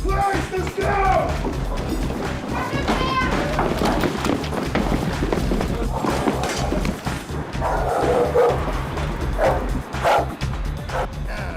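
A dog barks and yips among shouting and crashing during a police drug raid on a house in Devon and Cornwall, the barks short and repeated amid busy, loud commotion and overlapping voices.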